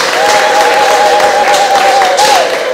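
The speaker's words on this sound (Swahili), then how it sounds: "Hebu tumpigie Mungu makofi lakini" A church congregation claps together in a broad steady roar of applause, with a sustained tone running over it, loud and close.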